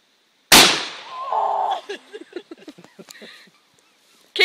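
Single sharp firearm gunshot at a shooting session, a loud abrupt crack followed by a brief tail, then a person speaking and laughing nearby.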